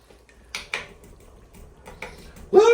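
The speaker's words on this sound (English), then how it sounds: "Whisking that together." A metal whisk stirs thickener into dill pickle soup in a pot, making a few sharp scraping clinks against the pot's side with quiet gaps between them, close and fairly loud.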